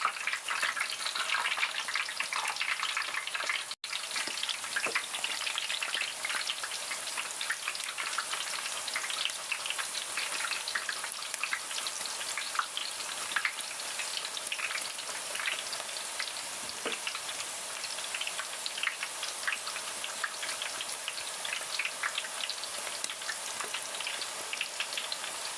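Plantain chips frying in low-heat oil give a steady, dense crackling sizzle that holds evenly close-up for the whole stretch, with no voices.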